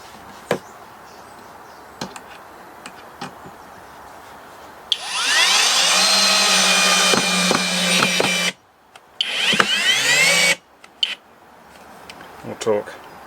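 A HoTo cordless power drill bores a pilot hole, whining loudly and steadily for several seconds, stopping briefly, then spinning again in a second burst, with a person speaking nearby before and after.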